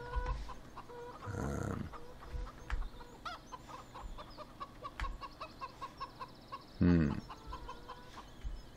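Chickens on a Farming Simulator 17 farm cluck and bawk in scattered, close calls, with two louder drawn-out squawks standing out against a busy background of clucking.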